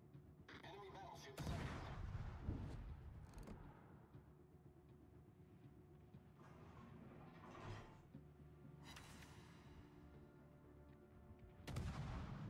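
Heavy naval guns booming in World of Warships, several loud salvos spaced apart over a low mechanical hum of the ship and game ambience, with a final blast near the end.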